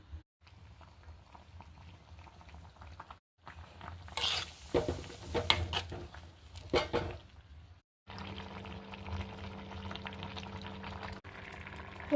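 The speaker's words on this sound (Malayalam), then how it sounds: "അപ്പോഴത്തേക്ക് തിളച്ചിരിക്കും" A pot of prawn and raw mango curry bubbles on the stove with soft, close popping and simmering. The sound comes in separate stretches broken by short silences, with louder bursts of bubbling in the middle.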